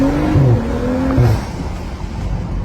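A tuned BMW engine revs loudly and steadily, with short whistling tones rising over the growl near the start before the roar settles.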